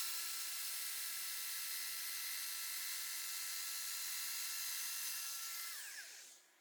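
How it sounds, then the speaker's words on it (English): A Festool Domino jointer cuts mortise slots with a loud, steady high-pitched whine for several seconds, then spins down and fades at the end. No voices. "Now I can just move down and cut all 5 mortise slots."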